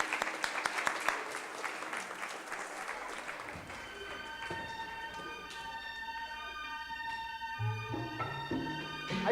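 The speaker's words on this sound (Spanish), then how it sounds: "Un aplauso para Óscar" An audience applauds Óscar, a volunteer at a Pati Ciència 2005 science show. Steady clapping fills the room for several seconds, with sustained tonal sounds creeping in partway through.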